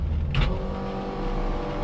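A Chevrolet S10 engine with a blown motor runs close by, giving a steady, rough low drone with a brief surge of gas early on, and no talk.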